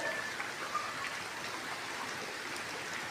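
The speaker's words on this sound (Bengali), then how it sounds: "অনেক প্রচুর বৃষ্টি পড়তেছে।" Heavy rain pours steadily outdoors, a dense, even hiss of drops on surfaces that holds at the same level throughout with no voices.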